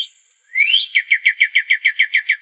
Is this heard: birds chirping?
yes